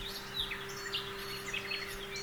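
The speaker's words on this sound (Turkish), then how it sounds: "şu kuşların seslerini duyduğumuz zaman" Birds chirping and singing in short high twittering bursts at a moderate distance, layered over a steady low hum and faint background noise.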